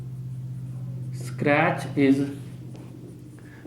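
Faint scratching of writing on a board during a civil engineering lecture on bricks, low in the background while someone speaks briefly.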